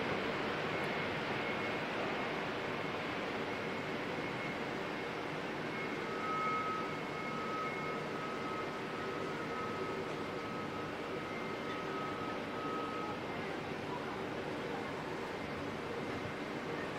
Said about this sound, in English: Jetstar 233 heading off down to Christchurch.